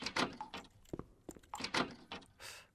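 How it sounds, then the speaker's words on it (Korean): A door in an anomaly-spotting office video game, set on the 13th floor, gives a few close clacks and dull thumps over about three seconds, with no one talking. "문소리가 좀 다른 느낌인데"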